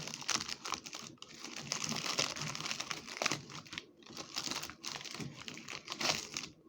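The plastic package of a freeze-dried ice cream sandwich is unwrapped up close, giving a quiet, continuous run of crinkling and crackling with brief rustling pauses.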